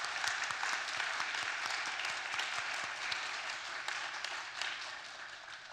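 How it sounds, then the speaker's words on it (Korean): A church congregation at a Korean Sunday praise service welcoming new members breaks into sustained, even applause, a dense crackle of many hands that holds steady and fairly distant with no voices over it. "크게 박수로 한번 격려해 주시면"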